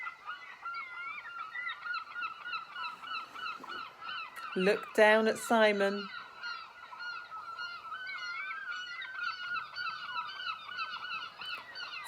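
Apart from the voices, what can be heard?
seagull calls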